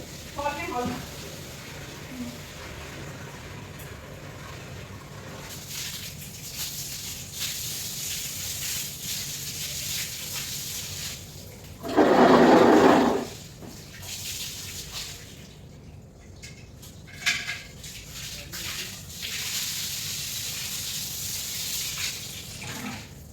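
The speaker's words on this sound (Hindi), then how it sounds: "तो अब इसके बाद लगी हूँ मैं आंगन को धोने के लिए।" Water poured and sluiced across a home courtyard floor during washing, a steady background wash with a brief loud gush midway, while someone talks over it.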